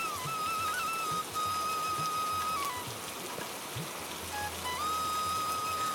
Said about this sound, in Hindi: 2 दिन बाद फिर बारिश होती है।